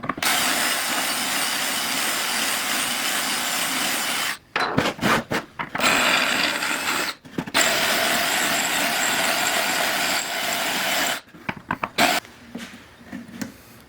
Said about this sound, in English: And then using a 1/4-inch drill bit.